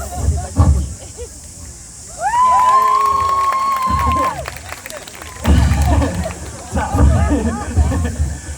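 An audience at an acrobatic street show at a Sunday market in Riccarton, New Zealand, bursting into clapping and cheering in waves, with whoops and shouts over crowd babble and a loud whistle-like tone near the start.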